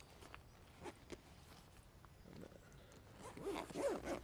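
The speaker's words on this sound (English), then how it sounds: "And zip him up." A zipper on the storage bag of an Outback Tourer double shower tent is pulled closed in a quiet, close rasp that grows louder toward the end.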